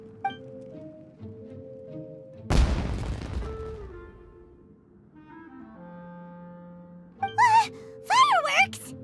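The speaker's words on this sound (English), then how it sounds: "Was that an explosion? It sounded like fireworks." Fireworks explode in the video game Genshin Impact: one sudden loud, close blast with a crackling, fading tail over soft game music, followed by brief vocal sounds.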